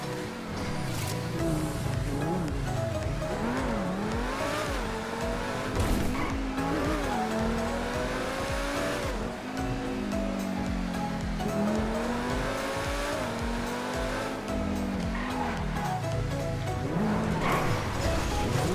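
A Lamborghini sports car drives at night, its engine note rising and falling steadily and loud throughout, with tire noise and no talk over it.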